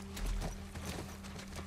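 Horse hooves gallop in The Last of Us, a quick rhythmic clip-clop of several hoofbeats under a low steady hum, moderately loud and without speech.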